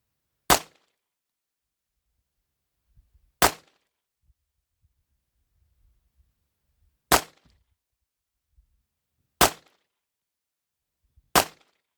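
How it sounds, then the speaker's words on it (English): Five sharp pistol shots from a GX4 with a ported barrel, spaced a few seconds apart, each a loud, crisp crack against near silence, with no talk. "Take 5 shots, see what the group looks like."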